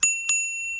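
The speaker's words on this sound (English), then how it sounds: "Bell," Two bright metallic bell dings from a handlebar bell on an electric scooter with a wooden deck, the second following about a quarter second after the first, each ringing out with a clear sustained tone.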